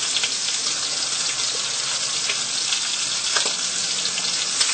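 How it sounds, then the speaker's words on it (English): Spaghetti being stirred in a pot of water, a steady broadband bubbling and swishing that holds at an even level throughout, with no voices. "now you want to stir that spaghetti"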